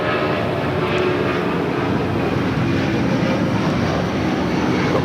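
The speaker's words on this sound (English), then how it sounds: "that's the flight heading to Atlanta. The 757-300, originally delivered to Northwest Airlines in July of 2003" A Boeing 757-300 jet airliner taking off at LAX gives a loud, sustained broadband engine roar, steady and close, with no pauses across the stretch.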